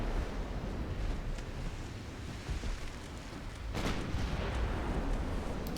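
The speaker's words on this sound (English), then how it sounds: "Oh, got him with the torps." In a naval video game, a torpedo strikes an enemy ship with a dull boom over a constant roar of sea and wind, followed by a sharper burst of noise partway through.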